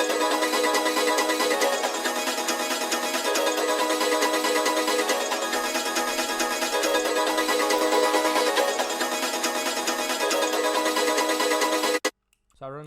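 A chopped music loop processed with Portal and Shaper Box plus a very fast volume effect and EQ, steady, dense and loud throughout, then cutting off abruptly near the end.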